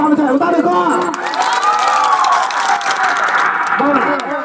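Wedding guests clapping and cheering in a crowd, a loud burst of applause mixed with shouts while an amplified voice talks over it.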